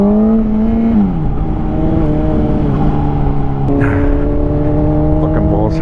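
A 2005 Honda CBR motorcycle engine hums loudly and steadily while riding away from work, with a shifting pitch as the rider changes speed and the engine note drops and rises again.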